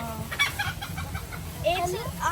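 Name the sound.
rooster crowing, desi chickens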